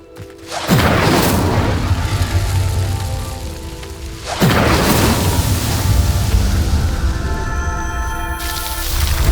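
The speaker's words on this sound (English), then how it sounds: "Incendio! The flames make the pyre sink." An Incendio fire spell in Hogwarts Legacy sets a pyre ablaze with two deep booming whooshes, each swelling into a sustained crackling roar of flames that fills the scene.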